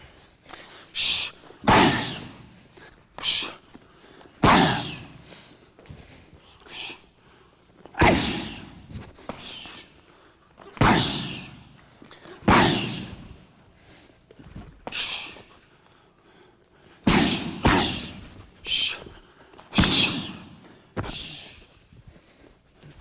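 Repeated body kicks thud hard into Thai pads during a Thai boxing pad drill, landing as loud, sharp slaps in irregular bursts of one to three strikes, with a faint voice now and then between impacts.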